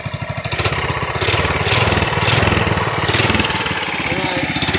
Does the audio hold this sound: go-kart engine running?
yes